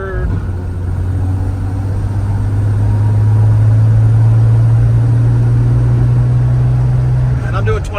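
A 1963 Jaguar E-Type Series 1 Coupe engine heard from inside while driving, a loud steady drone that rises slowly in pitch as it pulls, then drops sharply near the end at a gear shift.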